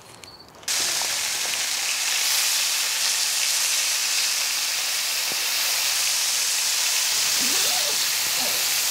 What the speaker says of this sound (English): Bacon on the griddle. Let's throw it on and see.